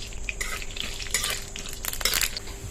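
Peanuts fry in hot oil in a pan as the start of a potato filling for pocket samosas, with a soft sizzle and bursts of clattering as they are stirred.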